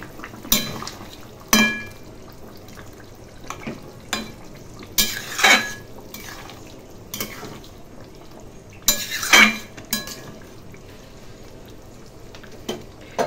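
Ilish fish curry with ash gourd cooking on a low flame, a faint steady simmer broken by several sharp clatters of a utensil against the pot, close by and without talk.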